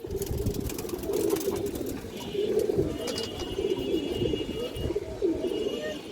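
Khaki hen pigeon cooing steadily over about six seconds, with repeated throaty coo phrases, close and fairly loud, over a constant low background rumble and a few faint higher chirps.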